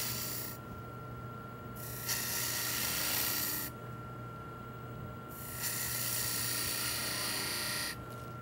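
Wood lathe spinning a wooden spindle as a skew chisel cuts it, a steady motor whine with bursts of bright scraping shavings in two long passes, recorded close.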